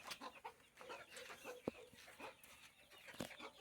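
Chickens clucking inside a coop, scattered soft clucks and a couple of sharper calls, quiet and somewhat distant against faint background noise.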